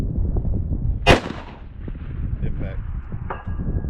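A single loud rifle shot fired at a long-range steel target around one thousand yards, a sharp crack with a brief decaying tail, standing out over steady background noise and faint voices.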